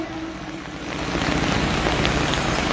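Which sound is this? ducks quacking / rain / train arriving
rain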